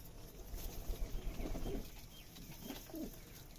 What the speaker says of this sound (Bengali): আমার কাছে রেসার আর গিরিবাজ কবুতর আছে